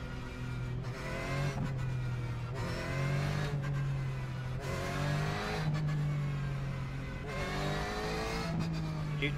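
Porsche Cup race car engine in iRacing at Watkins Glen, a loud steady drone rising and falling through repeated upshifts and revs, with other cars' engines layered close by throughout.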